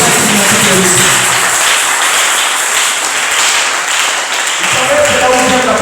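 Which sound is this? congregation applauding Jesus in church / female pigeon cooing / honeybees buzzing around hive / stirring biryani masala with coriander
congregation applauding Jesus in church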